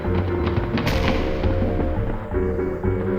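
Grenade blast in the video game I Expect You To Die 2: a dense, loud burst of booming, crackling detonation noise with a sharp hit near the start, filling the whole moment without any voice.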